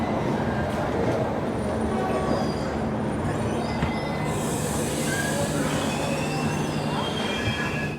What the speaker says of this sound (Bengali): ট্রেন কিন্তু অ্যাডভান্স ঢুকলো চেন্নাইয়ে